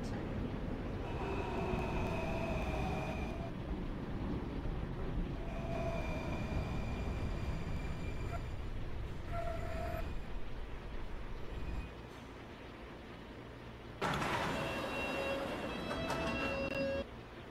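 A Q Express subway train runs along the track as heard from the front bogie, a loud continuous rumble of wheels on rail with tonal whines and squeals rising and fading, and a brief quieter stretch before the roar returns.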